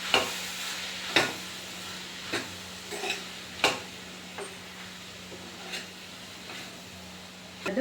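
Chana masala stirred in a pan after spice powder goes in, a low frying sizzle broken by a series of distinct scraping and clinking strokes of a spoon against the pan at irregular intervals.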